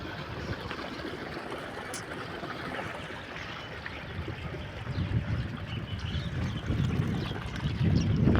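Water gushes and splashes continuously nearby from a burst pipeline, a rushing flow that grows louder toward the end, with some wind buffeting.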